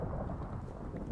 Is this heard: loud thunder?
yes